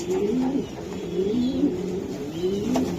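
Two racing pigeons coo close by in a series of low, throaty rolling calls that repeat at a steady rhythm, clear and fairly loud with no voices over them.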